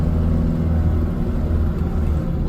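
Steady, low engine rumble and road noise heard from inside a moving 1990 two-door Range Rover with the windows down, continuous and even throughout, with no talking.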